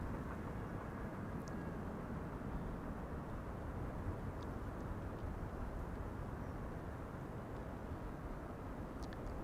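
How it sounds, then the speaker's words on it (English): KLM Airbus A330-200 airliner arriving at Amsterdam Schiphol from Vancouver, a steady, moderately distant broadband jet roar holding level throughout with no other sounds. "A330-200 KLM arriving from Vancouver"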